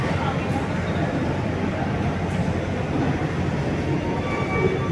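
A high-speed rail feeder train sits at a station platform, giving off a steady, loud rumble with a continuous mechanical hum throughout.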